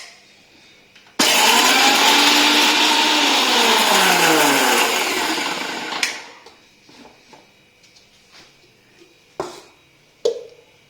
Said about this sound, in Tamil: இது ஆறுனதுக்கு அப்புறம் மிக்சி ஜார்ல போட்டு அரைச்சிடலாம்.